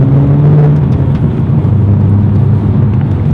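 A loud, close Alfa Romeo engine drones under hard acceleration, a steady heavy rumble with a faint tonal rise in pitch, alone for a few seconds.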